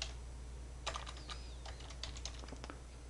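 Typing on a computer keyboard during an accounting software exercise, with a quick, irregular run of light key clicks over a steady low hum. Faint, close and without talk.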